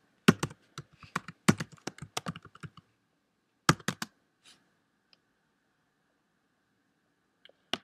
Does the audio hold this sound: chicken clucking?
no